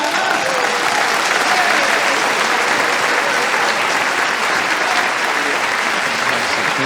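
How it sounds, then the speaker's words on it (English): Sustained applause from a sizeable crowd after a lecture on Edgar Cayce and Atlantis, dense and steady throughout, with faint voices mixed into the clapping. "Let's have another round of applause for Dr. Gregory Little, please."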